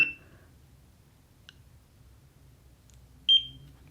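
Two short electronic beeps from a handheld laser skin device, one at the very start and another near the end, separated by quiet low background hum.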